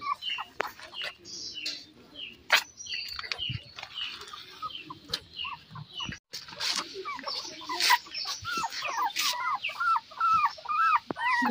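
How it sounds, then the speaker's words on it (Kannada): Beagle, Shih Tzu and Golden Retriever puppies play after their morning feed, giving a busy stream of high squeaks, yips and little whines with scuffling, fairly close and moderately quiet. "ಎಲ್ಲ ಪಪ್ಪಿಗಳು ಆರಾಮಾಗಿ ಆಟ ಆಡ್ಕೊಂಡಿವೆ"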